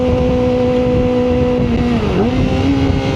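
A Kawasaki ZX25R motorcycle engine drones loud and steady while riding, with a brief dip and rise in revs midway as the bike shifts and pulls on.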